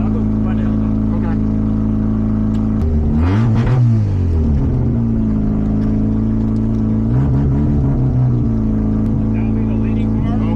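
A drift car on a track revs its engine, a steady drone with a rising sweep near the middle and another revving surge later, held fairly loud and close throughout.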